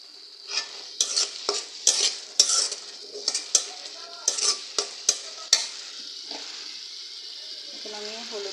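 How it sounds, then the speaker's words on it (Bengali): Shrimp frying with onions in a pan for a ridge gourd dish, with a steady sizzle beneath repeated sharp clinks and scrapes of a spoon stirring against the pan, loud and close. "এই যে পেঁয়াজের সাথে চিংড়ি মাছ দিয়ে এখন ভেজে নিচ্ছি"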